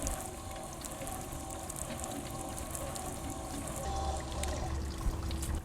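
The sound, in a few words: simulated summer rainfall, water pouring onto soil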